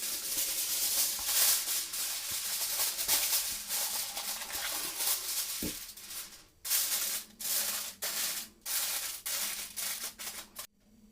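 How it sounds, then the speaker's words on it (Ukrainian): Aluminium foil is crinkled and pressed over a baking dish of stewed hake with carrot and onion, making close, scratchy rustles that break into short separate bursts toward the end. "І накриваємо зверху фольгою."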